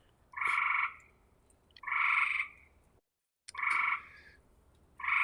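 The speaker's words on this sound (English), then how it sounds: "Here come the frogs." Frogs croak in loud, buzzing bursts of about half a second, four calls spaced roughly every one and a half seconds, close against a quiet background.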